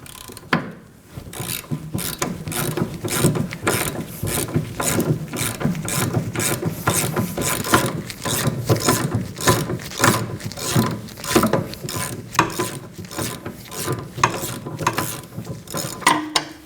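A ratchet with a 19mm socket loosens a bolt on a 2011-2016 Kia Optima during rear wheel bearing and hub work, giving rapid, steady close-up clicking that runs almost unbroken for the whole stretch.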